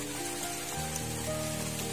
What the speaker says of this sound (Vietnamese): Mưa thì càng ngày càng lớn.